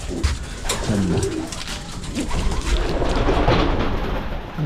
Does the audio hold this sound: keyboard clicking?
no